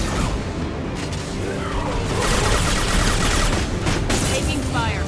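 Dense gunfire crackles without a break through a firefight in the video game Mass Effect 2, loud and continuous bursts overlapping with crashes and impacts over the full few seconds.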